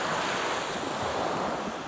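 Black Sea waves wash steadily onto the shore on a morning at Adler, Sochi, with a continuous broad surf roar and wind buffeting the microphone throughout.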